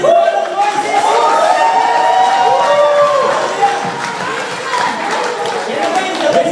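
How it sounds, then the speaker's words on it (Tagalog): A church congregation at an El Shaddai Friday gathering in Kuwait applauds and cheers loudly, with sustained clapping, shouts and whoops filling the room while voices call out over the noise. "Yan na po ba yung the best na palakpak nyo"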